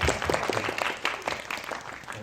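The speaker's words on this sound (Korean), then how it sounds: "박수 한번 부탁드릴게요." Light, scattered applause from a festival screening audience at a short film Q&A, individual claps audible in an uneven patter that stays fairly quiet.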